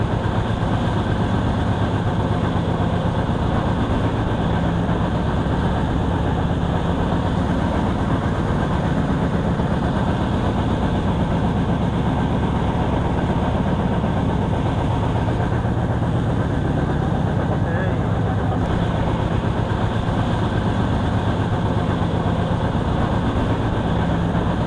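The Sundarban Express train rolls across the Padma Bridge, a continuous heavy rumble of wheels and carriages with a low engine drone, steady and unbroken throughout, heard from on board with no talk.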